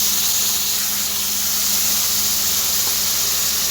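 Spices fry in hot oil over browned onions while a borali fish dish is cooked. A loud, even hiss and sizzle carries on without a break, and no one speaks.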